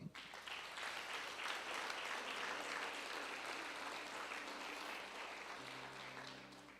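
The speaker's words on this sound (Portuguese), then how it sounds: "Que tal aplaudir a Jesus agora?" A church congregation applauds during a worship service, sustained clapping from many hands that stays fairly steady throughout, with faint background tones beneath it.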